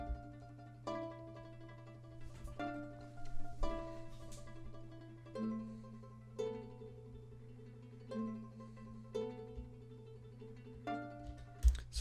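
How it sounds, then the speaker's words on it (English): Two ukulele tremolo patterns from a sample library in FL Studio ripple through quick repeated plucked notes, with fresh phrases starting every second or two over a low steady hum, fairly quiet and with no talking. "So I added these two different tremolo patterns from the same library,"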